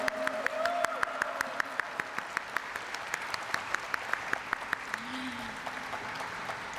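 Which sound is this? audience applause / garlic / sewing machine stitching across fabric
audience applause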